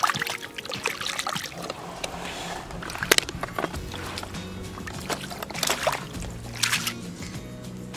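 A blood clam gathered on a muddy beach is rinsed in water, giving a few close splashing, sloshing bursts over outdoor background noise, with no talking.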